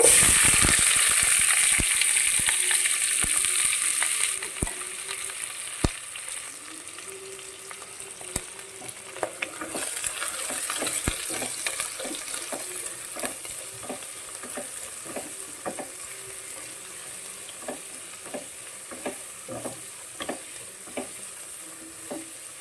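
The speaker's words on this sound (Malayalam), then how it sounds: "അതൊന്ന് ചൂടായി വന്നപ്പോൾ അരിഞ്ഞു വെച്ചിരിക്കുന്ന സവാളയും മുളകും കൂടി ഇടും." Chopped onion and chilies hit hot oil with cardamom and cloves in a pan, a loud initial sizzle that settles into steady frying crackle with frequent sharp stirring clinks and scrapes.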